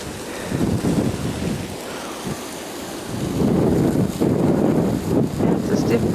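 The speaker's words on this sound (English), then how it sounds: "It's a stiff breeze." A stiff, gusting breeze in an Alaskan black spruce forest rushes and buffets the microphone in uneven surges, with a person speaking faintly under the wind.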